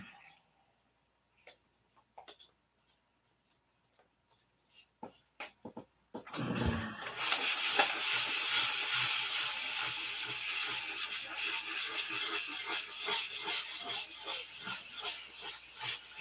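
Wood sanding begins after a few quiet taps and light handling noises, then settles into a loud, continuous rasping rub that swells and eases slightly with each stroke, close up and with no talk.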